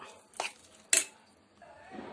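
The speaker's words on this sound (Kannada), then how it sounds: "ಈ ರೀತಿ ಚೆನ್ನಾಗಿ ಕೈ ಆಡಿಸ್ಬೇಕು" A spoon scrapes and clinks a few times against a pan while ground chutney and tempering are stirred together, sharp close metallic knocks separated by short quiet gaps.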